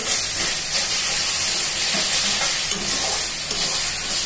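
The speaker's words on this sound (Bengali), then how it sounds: "এখন আমি জল ঢেলে দেবো।" Spice paste frying for a fish and potato curry as water is poured in, giving a loud, steady hiss and sizzle that holds throughout with faint stirring clatter.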